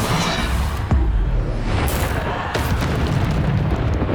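The Depulso spell from Hogwarts Legacy lands with a deep, rumbling magical boom and whooshing burst, loud and dense across the clip amid other game combat noise.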